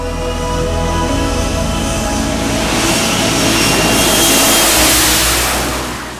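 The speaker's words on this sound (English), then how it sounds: "The turboshaft lift fans are activated to provide additional lift, while the main engine nozzles are pointed downward to create vertical thrust." F-35B fighter jet engine roaring together with its lift fan during a vertical takeoff, a loud, steady, broadband thrust that swells slightly and then eases off toward the end.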